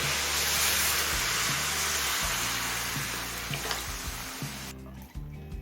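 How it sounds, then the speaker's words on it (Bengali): Hot water pours into rice, lentils and spices frying for khichuri, a loud broadband sizzle and rush with stirring knocks, dropping off sharply near the end. "ডাল আর চালটা মশলার সাথে মিশিয়ে পাঁচ ছ মিনিট ভেজে নিয়েছি এবার দিয়ে দিচ্ছি পরিমাণ মতো গরম জল"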